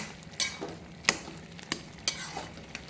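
A cowpea vegetable curry is stirred in a pan, with four or five sharp spoon scrapes and clinks spaced about every half second over a faint low sizzle.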